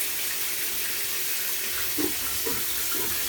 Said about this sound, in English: So let's try the inaugural shower.